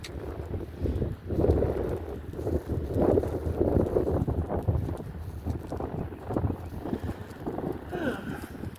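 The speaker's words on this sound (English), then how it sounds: "Lots of wind." Strong outdoor wind buffets the microphone in heavy low rumbling gusts that rise and fall continuously, close and loud, with no clear talk over it.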